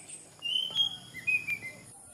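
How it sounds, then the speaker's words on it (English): An oriental magpie robin sings in the morning in Sepilok, Sabah, with a few clear whistled phrases and brief chirps, fairly near, over quiet background. "You also love this beautiful bird song in the morning."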